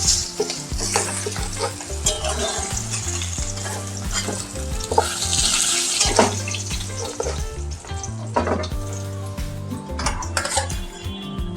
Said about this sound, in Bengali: খুব বেশি ভাজবো না মাছ, কাতলা মাছ হালকা ভাজলেই হয়ে যাবে।